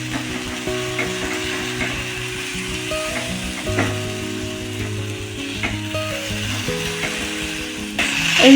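Sweet coconut filling for patishapta pancakes sizzles steadily in a pan while it is stirred, with scraping and clinking from the utensil and no voices.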